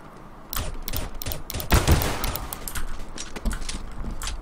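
Rapid bursts of gunfire from Counter-Strike: Global Offensive, sharp repeated shots in clusters with one heavier blast, loud and close, without talk.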